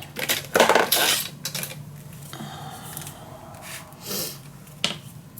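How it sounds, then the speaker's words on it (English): Scissors snipping a small strip from paper on a cutting mat, a few quick crisp cuts and metallic clicks up front, then quieter rustling and one more sharp snip, close by. "I'm gonna cut a nice small strip out of this"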